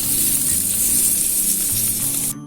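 Paneer cubes fry in a hot pan, a loud, close, unbroken sizzle and hiss that runs steadily before cutting off abruptly at the end.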